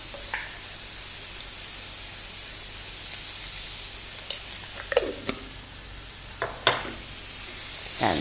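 Salted onions saute in a pan, giving a steady hiss of frying with a few faint clicks and scrapes scattered through it, close and even, with no talking.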